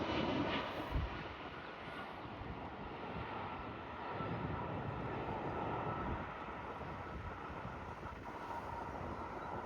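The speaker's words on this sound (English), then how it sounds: "Saw so many airplanes landing." An airplane descends toward an airport near Fort Mifflin, its engine drone a steady distant roar blended with gusting wind buffeting the microphone throughout.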